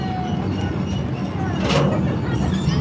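An amusement park train ride at Kennywood Park rolls along with a steady low rumble and rattle, and a brief hiss rises midway through.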